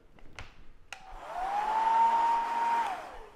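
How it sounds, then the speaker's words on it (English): A hair dryer switches on after a couple of sharp clicks, blowing steadily with a rising whine that holds for a couple of seconds, drying a palladium photographic print. "I'm gonna give it a little bit of a dry with the hair dryer here."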